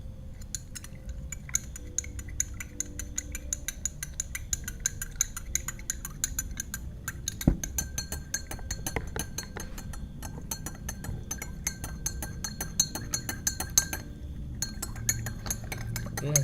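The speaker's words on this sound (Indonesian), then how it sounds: "ini kopinya tinggal kita aduk aja" Kopi tubruk coffee with full cream is stirred in a glass, a spoon clinking steadily against the sides in a quick, continuous rhythm, close and clear with no talk.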